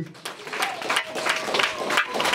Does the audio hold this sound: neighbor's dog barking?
no